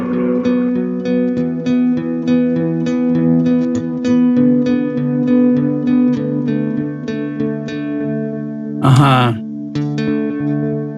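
Electric guitar notes played through a JHS Panther Cub delay pedal, each pluck followed by fading repeats that stack into a shimmering wash, with one sharp burst near the end.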